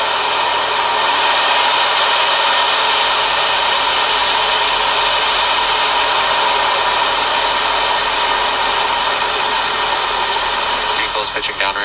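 SpaceX Falcon 9 rocket lifting off on a GPS III launch: a continuous loud, broad roaring rumble that holds steady for the whole stretch, distant and unbroken, with faint crackle near the end.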